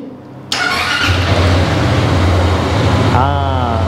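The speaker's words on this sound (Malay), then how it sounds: "bila kita start engine" A Zontes ZT368G adventure scooter's engine fires up with a sudden start and then settles into a steady, loud, close idle hum that continues to the end.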